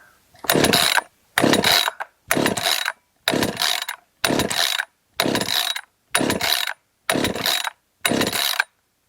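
Husqvarna 545 chainsaw with a failing engine held at fast idle, sounding as nine evenly spaced loud bursts separated by short silences, close up with no talking.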